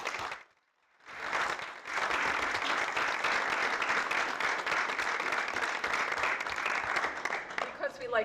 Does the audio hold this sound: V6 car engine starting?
no